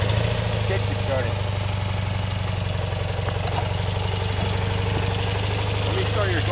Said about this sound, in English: Listen to the exhaust on this thing. Purrs like a kitten.